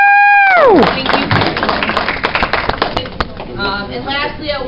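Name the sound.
banquet audience applauding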